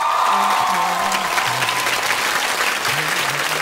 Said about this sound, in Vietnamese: Vỗ tay cho Tuấn Hoàng.